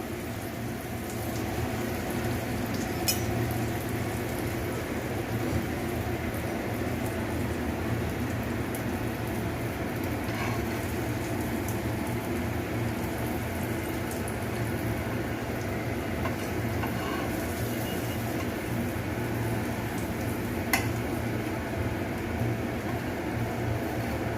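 Bread for garlic bread toasts in melted butter on a pan, giving a steady, even sizzle that hisses on without a break, with a few faint clicks and no voices.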